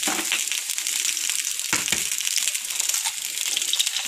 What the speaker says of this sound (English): I'm going to break this egg and drop it in here